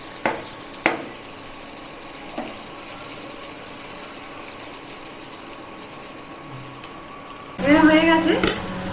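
Small chicken pieces for shawarma cook in a pan with a soft, steady sizzle, broken by a few utensil clinks and scrapes, and a voice speaking near the end.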